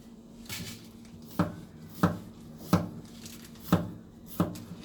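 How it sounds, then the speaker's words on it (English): A knife chops peppers steadily on a cutting board, sharp regular knocks about every half second to second, close and clear with no talk. "Just chopping up a few peppers."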